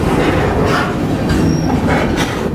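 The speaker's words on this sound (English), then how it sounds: "The train has just been going at this speed." A freight train rolls along the rails, heard loud and close from aboard with a continuous rumble, rattling cars and faint wheel squeal throughout.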